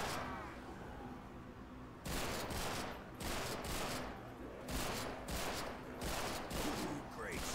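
Gunfire in Call of Duty Warzone, repeated bursts of shots at moderate distance, fairly steady across the clip with short gaps between volleys.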